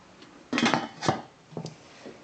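Metal lid set onto a cooking pot of squash simmering in water for pinakbet: a clattering clank followed by a lighter rattle as it settles, close and fairly loud in a quiet kitchen.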